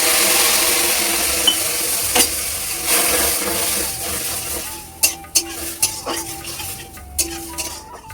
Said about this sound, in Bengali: এই চিংড়ি মাছটা দিলাম, একটু হলুদ দেব আর সামান্য একটু জল দেবো, দিয়ে সাঁতরিয়ে নেব